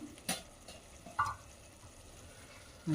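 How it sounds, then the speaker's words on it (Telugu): Moong dal and spinach fry in a pan with a quiet, steady sizzle. A few brief scrapes or taps from stirring stand out over it. "మంచిగా ఫ్రై అవుతుంది"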